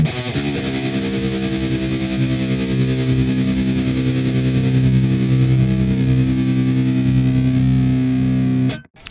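A heavily distorted death-metal guitar chord rings out through a tremolo effect on the This Heavy Earth Flesh Rot amp sim, holding a sustained pulsing wall of sound before cutting off abruptly at the end.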